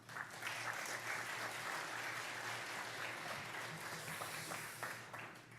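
A church congregation at a Wednesday worship service applauds to welcome a missionary onto the stage, a sustained, even burst of many hands clapping, heard from a distance and fading slightly at the end.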